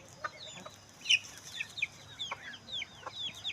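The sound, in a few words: ducklings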